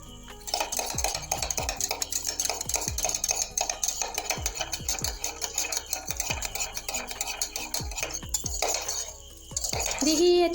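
Utensil stirring egg mixture with salt in a bowl, with repeated scraping and clinking strokes against the sides at a steady rhythm, close and clear, with no talk.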